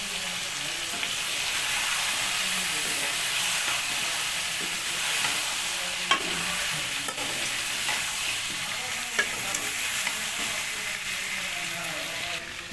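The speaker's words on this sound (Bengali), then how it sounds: "এবার এটা কিছুক্ষণ কষা হবে" Chicken with tomato and potato stirred and sautéed in a pan, a steady broadband sizzle running throughout with scraping spoon strokes and a couple of sharp clinks, fairly close and loud, no voices.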